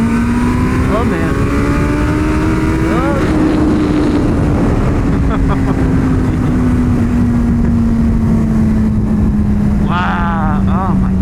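A 300HP turbocharged Suzuki Hayabusa motorcycle accelerating at half throttle, its loud engine tone holding steady and slowly falling in pitch under wind noise, with people talking over it.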